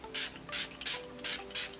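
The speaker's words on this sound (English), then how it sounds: "I'm just gonna set my face using the same setting spray that I used earlier." Milani Make It Last setting spray in Mango Coconut scent hisses out of its pump bottle in five quick, evenly spaced spritzes, close to the mic.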